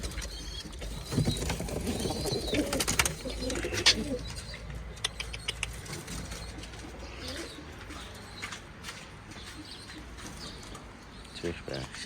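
Pigeons coo softly and wings flap in sharp bursts near the start, with someone speaking over the birds and scattered clicks and rustles around them.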